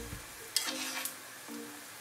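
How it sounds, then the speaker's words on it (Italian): A spoon scrapes and stirs pasta and potato soup in a pot with a few soft clinks and a low simmer, close and quiet. "mescolate spesso perché la pasta con le patate tende ad appiccicare sul fondo"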